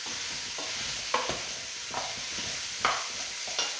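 Vegetables sautéing in a pan for a fish pot-au-feu, a steady close sizzle with several soft stirring scrapes and clinks spaced through it.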